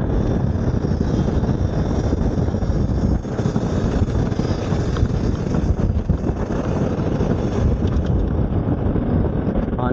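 Strong wind roars over a roadside construction site on the Davao Bypass Road, Mahayag segment, Bunawan District, a loud, continuous broadband rush buffeting the microphone for the whole stretch with no pauses.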